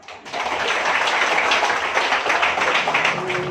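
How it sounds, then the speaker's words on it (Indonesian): An audience at a village youth-organization (Karang Taruna) event in Padangasri breaks into clapping after a brief quiet moment. The applause is steady and fairly close, with no talking over it. "Luar biasa, tepuk tangan."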